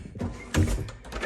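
A secret door in a London house swinging open, with a soft thud and a brief scrape or rattle, close and fairly quiet, in a short burst.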